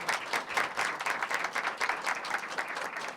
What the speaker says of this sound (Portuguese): Palmas para a plateia, por favor.